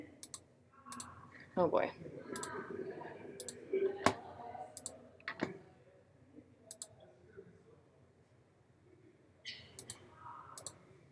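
Computer mouse clicks sound in sparse, sharp taps scattered over several seconds, while a person murmurs quietly between them.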